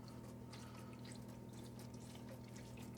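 Water gently poured onto pre-soaked compost in pots of sown carrot seeds, heard as a faint, steady trickling wash under a low constant hum, with no speech.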